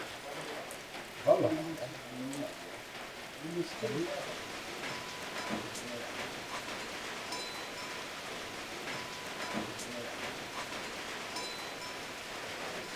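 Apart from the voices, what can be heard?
heavy rain falling on a shelter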